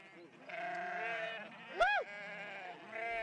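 A flock of Tush sheep being driven along a mountain road bleats in overlapping, wavering calls, one louder nearby bleat rising above the steady murmur of the flock.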